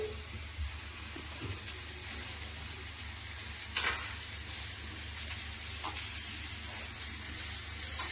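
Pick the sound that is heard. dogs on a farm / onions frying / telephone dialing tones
onions frying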